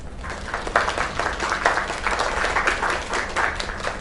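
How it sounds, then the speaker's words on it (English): Audience applause in the video game Lake, a dense wash of clapping at moderate volume continuing steadily for several seconds with no talking over it. "Another round of applause."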